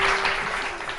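A studio audience on a morning television show applauds in a short, dense burst of many hands clapping, steady and fairly loud.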